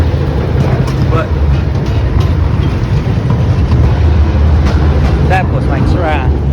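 An Amsterdam tram rolls past with a steady low rumble and rail noise, with high squeals of wheels on track near the end and voices over it.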